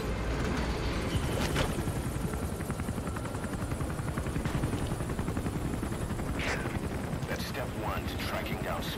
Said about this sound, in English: Chopper's loud.